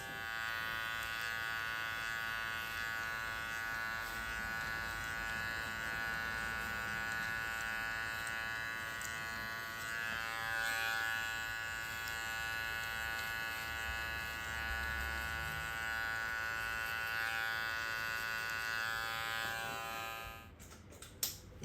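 Cordless Wahl Magic Clip hair clippers hum in a constant close buzz while cutting a mid fade, running almost without break before switching off near the end.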